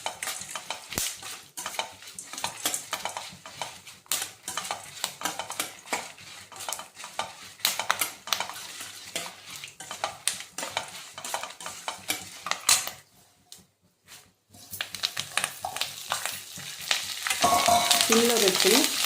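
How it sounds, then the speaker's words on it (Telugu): Curry leaves fry in a pan over low heat, a close, continuous sizzle broken up by frequent scraping and clinking as a spoon stirs them, with a short lull near the end before the sizzle returns louder. "సిమ్లో పెట్టుకుని వేయించాలి, లేకపోతే కరివేపాకు మాడిపోతుంది."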